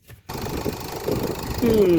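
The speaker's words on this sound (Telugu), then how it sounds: "ఇంజిన్ అయితే చాలా స్మూత్గా ఉంది" A Toyota Etios GD diesel car engine runs steadily up close after a brief silent start, a low continuous drone with a rising whine near the end.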